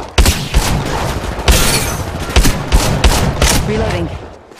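Loud, close gunfire in Apex Legends Mobile: sharp repeated shots in uneven bursts, evenly spread throughout, over a dense game soundscape with some voice lines.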